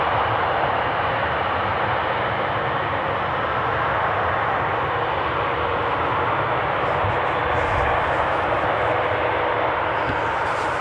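An ITA Airways jet from Rome touching down gently at Amsterdam Schiphol on runway 27, a steady broad roar of engines and rushing air holding at constant loudness throughout with no voices.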